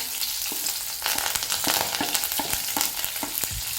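Ginger, green chilli and curry leaves fry in hot oil for semiya upma, a close crackling sizzle broken by repeated scraping strokes of a spoon against the pan.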